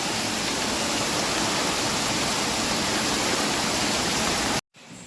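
Heavy monsoon rain pouring down in Gujarat, a dense, loud, unbroken roar of falling water that stays even throughout before a brief sudden drop out near the end.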